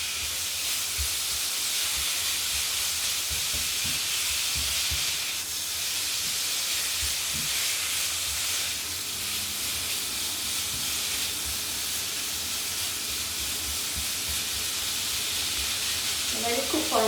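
Potato and meat fry in a pan with a loud, continuous sizzle and hiss. Brief clatters of tossing come near the start, and bubbling grows louder toward the end, with no talk.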